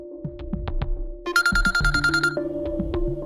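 A mobile phone ringtone plays a synthetic tune of sustained tones with pulsing low beats and a brief bright chime burst, clear and close with no talking.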